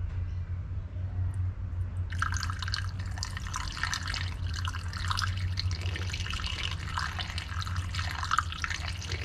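Green coolant poured slowly into the radiator of a 2011 Nissan X-Trail through a small opening, a faint trickle and splash that starts about two seconds in and continues steadily against a low engine-bay hum.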